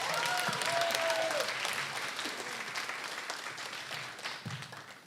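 Sustained audience clapping after a performer's set at a mental health stand-up comedy event, full and steady at first, then gradually easing off, with a faint whistle near the start.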